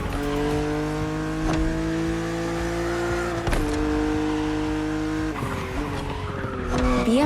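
BMW Z roadster racing in The Crew Motorfest, its engine droning at high revs with rising and falling pitch through gear changes, close and loud, with brief tire squeals and bumps, no talk.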